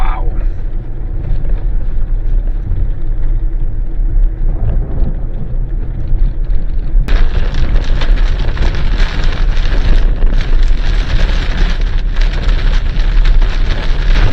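Steady rain falls in northern South Africa at the start of a 4x4 eco trail, a dense continuous hiss with wind buffeting the microphone, growing louder and brighter about halfway through, with no talking.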